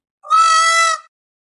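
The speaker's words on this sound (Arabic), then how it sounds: "طاووس" A farm peacock lets out one drawn-out, strongly tonal call lasting under a second, loud and near, against silence.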